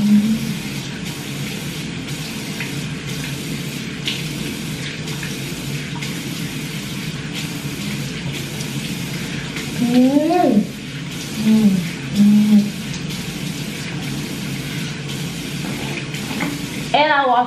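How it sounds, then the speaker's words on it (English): Water runs steadily from a tap into a sink, a constant splashing hiss, with a brief voice and a few squeaky tones partway through. "I rinse it off with warm water"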